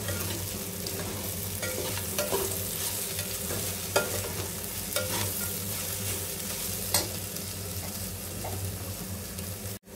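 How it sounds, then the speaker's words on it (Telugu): Chopped okra fries in an open, uncovered pan, giving a steady close sizzle with scattered crackles and the occasional scrape of a stirring spoon, and no voices. "లిడ్ పెట్టకుండా ఫ్రై చేసుకున్నాను"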